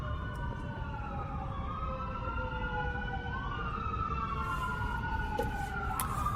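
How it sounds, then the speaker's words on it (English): Wailing emergency sirens sweep up and down in overlapping tones through a town, steady and fairly distant, with a low traffic rumble underneath. "It's rare to hear sirens in this town."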